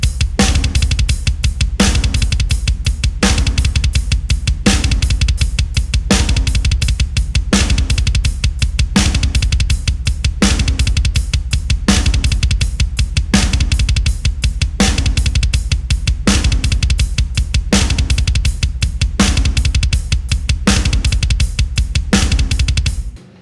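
Drum kit heel-toe double strokes on the bass drum, moving between 16th-note and 32nd-note rhythms, loud and close with a steady rapid pulse of kick hits and cymbal wash throughout, no talking.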